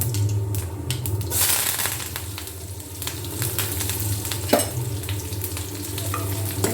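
Shallots, dried chillies and curry leaves sizzle and crackle in hot oil in a pan for a Kerala-style moru curry, with a dense, steady frying hiss, occasional scraping stirs and a sharper pop near the end.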